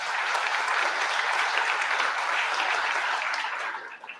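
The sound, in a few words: audience applause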